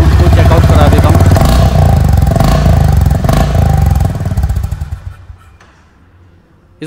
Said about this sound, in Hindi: सबसे पहले मैं आपको इस बाइक के साउंड को चेकआउट करा देता हूँ